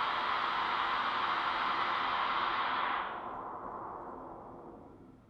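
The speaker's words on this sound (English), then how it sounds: "I'm going to be playing that pink noise that kind of sounds like static" Pink noise test signal plays through a car audio crossover, a loud, even static-like hiss. Partway through, the highs are cut away and it dulls to a quieter, muffled rush.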